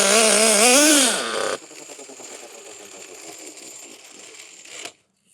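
A small RC nitro engine running on home-mixed 10% nitro fuel gives a loud, high-pitched wail that rises and falls for about a second and a half. It then drops to a rough, buzzing idle and cuts out.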